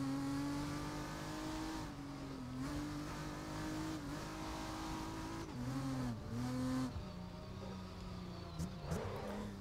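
Race cars drive in the GRID racing game: a sustained engine drone shifts pitch as gears change and revs rise and dip, with brief tire squeals near the end, moderately quiet and without talk.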